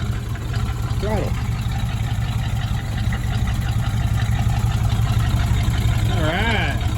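Cold-started 1962 225 and 440 car engines idling together, a loud, steady low rumble that runs throughout, with throttle blips rising briefly near the start and again near the end.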